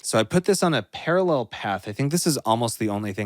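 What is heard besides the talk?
No everyday noises stand out.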